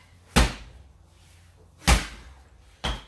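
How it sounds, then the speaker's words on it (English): An exercise ball is slammed hard onto the floor during a group workout, giving three sharp, heavy thuds spaced about a second or more apart, each with a short decay, and no talking. "scoop up your damn ball, bash it into the freaking earth"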